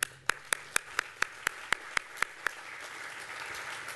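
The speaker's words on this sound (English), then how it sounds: "Could you give them a round of applause?" Applause at a 2015 grand opening event in Seneca, South Carolina, starting with a run of sharp, evenly spaced single claps that swell into steady, moderately distant crowd clapping with no talk.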